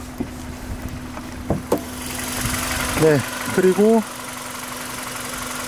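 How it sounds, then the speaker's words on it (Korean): A Hyundai i30cw's Gamma MPI engine idles with a steady, even hum throughout, while someone speaks briefly over it near the start and middle. "감마 MPI 엔진, 여러분 잘 알고 계시는 감마 MPI 엔진입니다."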